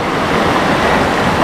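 A waterfall rushes steadily in a broad, dense wash of roaring water, loud and close, without pause or voices, at Curug Papat in Rejang Lebong, Bengkulu.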